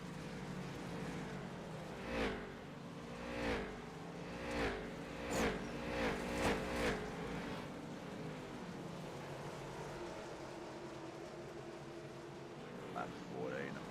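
Race cars in the iRacing sim streak past a track camera one after another, each pass a brief rising-and-falling whoosh over a steady engine drone, several in quick succession, with commentary voices talking underneath.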